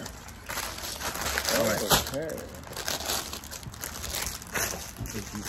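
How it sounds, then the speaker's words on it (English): Plastic bags from a Lego Creator set 31108 caravan being opened, with steady close crinkling and rustling of the plastic throughout, under a person speaking briefly. "I'm gonna open up this first bag."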